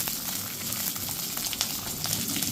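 Eggplant frying in hot oil for a Tamil kuzhambu, a steady close sizzle with small crackles and pops, heard alone without talk.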